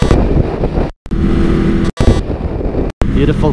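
Motorcycle riding on a ride to a cafe under dark skies, a loud roaring engine and rushing wind noise close to the microphone, cut by several abrupt dropouts where the sound briefly vanishes.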